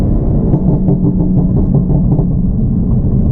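Exhaust rumble from a BMW F80 M3 / F82 M4 with an MHD burble tune and catless downpipe, a loud, steady low drone heard from inside the car with faint crackling pops during downshifts.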